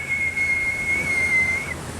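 A person whistles one sustained, steady high tone for about a second and a half, loud and close, over a faint hissy background with no speech.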